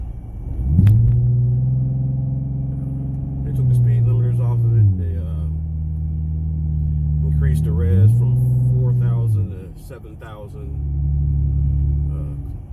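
A Dodge Journey with its speed limiter removed revs up repeatedly from idle, each rise to a held higher pitch then dropping back, a close rumbling engine while someone talks over it.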